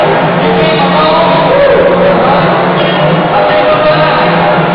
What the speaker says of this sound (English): The crowd is starting to come in for the second game of this doubleheader here, starting to fill in the empty seats.